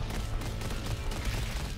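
Rapid handgun fire from the shooter game Roboquest: a dense, unbroken stream of sharp shots hammering close and loud, with no voices over it.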